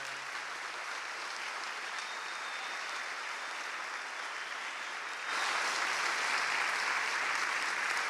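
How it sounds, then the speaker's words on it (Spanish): Steady crowd applause at a political rally in Quilmes, Argentina, with dense broadband clapping that holds evenly and then swells louder for the final few seconds, no talk over it. "Un aplauso para Fernanda."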